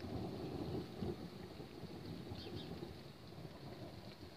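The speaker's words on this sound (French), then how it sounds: "ça doit être un orage stationnaire. Ça fait déjà le quatrième impact qui est exactement au même endroit." Rolling thunder from a stationary thunderstorm, a sustained low rumble mixed with steady rain, loud and continuous with a slight swell near the start.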